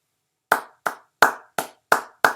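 Six single hand claps ring out one at a time at a slow, slightly uneven pace, each sharp and close with a short decay, after a half-second of silence.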